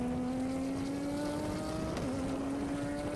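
A race car engine heard onboard during a racing lap, holding a steady high drone that climbs slowly, dips briefly as if for a gear change, then pulls again, with no voices.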